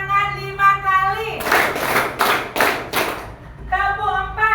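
A group of schoolchildren in a classroom claps hands on instruction, giving five sharp, evenly spaced, loud claps in unison, with a teacher's voice speaking before and after.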